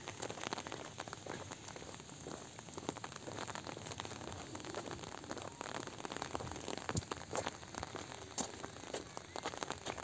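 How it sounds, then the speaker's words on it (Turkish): Steady rain falls during a funeral gathering in Yoldere village near Erbaa, Turkey, a dense continuous patter and hiss of drops on surfaces throughout, with no speech over it. "Yağmur yağıyor."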